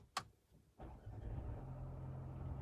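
A Mercedes car starting: a sharp click and brief pause, then the engine catches and settles into a steady low idle rumble, close and alone with no talk.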